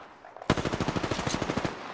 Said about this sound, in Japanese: 発砲中。